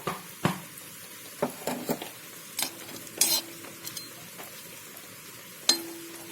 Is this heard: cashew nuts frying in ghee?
yes